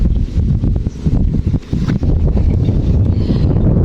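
Wind blows steadily and loudly against the microphone, a constant rough rumble with brief dips, nothing else standing out.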